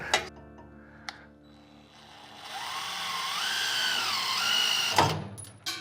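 A power drill drives screws into the mounting tabs of a custom car's skid plate. A short burst of whirring climbs and dips in pitch, with clicks and a thud before and after it. No voices are heard.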